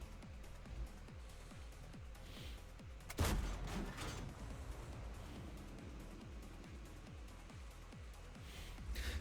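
A single sharp tank cannon blast fires mid-way in a World of Tanks battle, with a deep rumbling tail, over a steady rhythmic engine thrum and clanking tracks of the T29 heavy tank.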